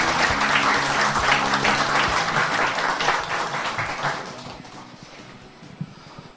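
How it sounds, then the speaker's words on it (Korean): An audience claps loudly to welcome a speaker to the stage at a special lecture event in Korea, a dense burst of applause that thins and fades out over the last couple of seconds. "큰 박수로 맞아주십시오."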